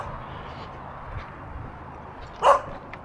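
A single dog bark rings out in a rural countryside setting, fairly close and loud against a quiet low background hum.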